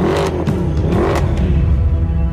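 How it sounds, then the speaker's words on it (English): Mercedes SL63 AMG with a 6.3-liter V8 and seven-speed SPEEDSHIFT MCT launching in race start mode, a loud, deep engine roar surging with quick gear-change breaks over a couple of seconds. "And the SL63 AMG starts like a racing car."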